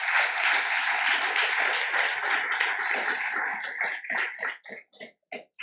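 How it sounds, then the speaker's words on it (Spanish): A church congregation at a Sunday school service claps loudly as a group. The dense applause builds and holds, then thins into a few scattered, separate claps near the end. "Dele un aplauso al Señor en esta hora"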